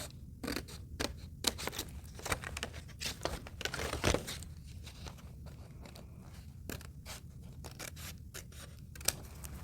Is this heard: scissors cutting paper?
yes